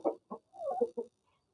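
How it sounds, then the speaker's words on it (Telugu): A red game cock (erra daga fighting rooster) gives a few short clucking calls in a quick uneven burst, close and fairly clear against near silence. "ఇది ఎర్రడాగ కోడి, చూసారు కదా?"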